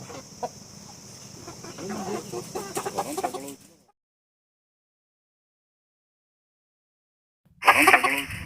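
Black Jade breed chickens cluck on a farm, a soft cluster of close clucks and calls for a few seconds, then silence, and the clucking resumes briefly at the end.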